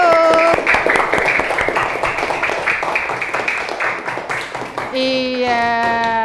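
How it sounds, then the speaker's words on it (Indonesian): A group in a classroom claps hands loudly in a fast, dense burst of rapid clapping for several seconds, then it stops and a few high tones follow. "kita kasih tepuk tangan yuk yang keras yuk"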